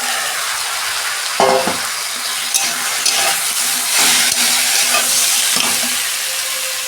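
Mixed vegetables added to a pan after raw plantain has fried, giving a loud, bright continuous sizzle broken by scraping stir strokes and a few clinks of a spatula, with no talk.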